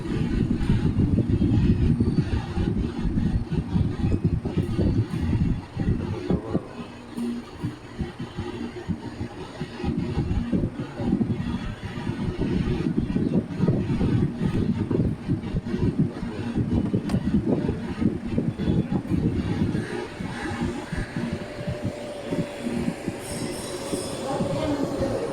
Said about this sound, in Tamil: அருமையான தண்டவாளம், பல் சக்கரம். இதான் நீலகிரி ட்ரெயின்.